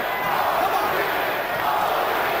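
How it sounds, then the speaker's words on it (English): A dense boxing arena crowd at the Holyfield versus Lewis rematch roars and chants continuously in a wash of sound, with no breaks across the whole stretch. "Crowd trying to chant Holyfield into Yet another of his dramatic career moments."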